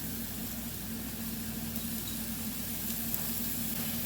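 One pound of 99% fat-free ground beef browns in a pan, giving a steady close sizzle and frying hiss throughout, without talk.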